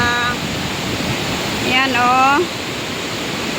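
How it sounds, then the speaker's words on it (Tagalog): Steady broadband roar of heavy rain with some wind at Titiwangsa, Kuala Lumpur, loud and continuous, with a voice briefly speaking over it. "Sobrang laki ng lakas ng ulan guys."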